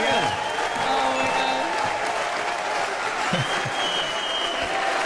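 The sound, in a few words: audience clapping and cheering at a comedy show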